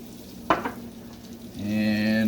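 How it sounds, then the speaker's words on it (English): Onion powder, ginger powder, garlic powder, sugar and fish sauce are stirred together in a pan while making garlic butter shrimp, bringing a brief scraping clatter and then a steady, close sizzle that swells and holds. "Mix this all up."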